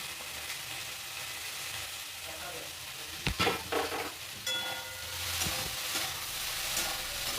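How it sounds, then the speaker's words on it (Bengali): Drumstick flowers and potatoes fry in a pan, a steady soft sizzle with a few sharp stirring scrapes midway, the sizzle swelling slightly toward the end. "খুব ভালোভাবে আলুর সাথে সজনে ফুলটাকে একটু ভেজে নেব।"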